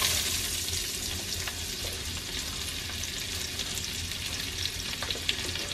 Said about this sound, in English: the butter is nice and melted, so I'm going to add our onions